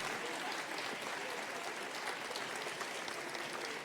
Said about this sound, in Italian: fate un bel applauso tutti quanti forte